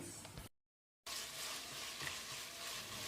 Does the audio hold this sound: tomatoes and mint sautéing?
yes